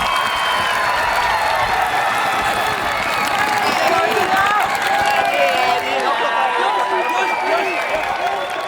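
Fans cheer and applaud in the stands at the USA vs. Japan Open final of the 2024 World Ultimate Championships: a loud, sustained crowd roar with whoops throughout, under a commentator's talk.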